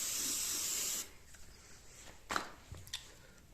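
A steady hiss of coating sprayed onto a WW2 German M42 beaded helmet lasts about a second, then stops, followed by a few quiet handling knocks and rubs.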